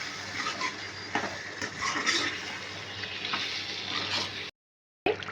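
Chicken frying in a pan with salt, chili powder and spices, a steady broadband sizzle with occasional stirring scrapes, moderately close, cutting out briefly near the end before resuming.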